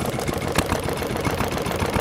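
An old Yamaoka (Yanmar) K2 diesel engine with an S-series injection pump runs steadily nearby at an engine show, a rough, continuous clattering rumble with faint rhythmic knocking.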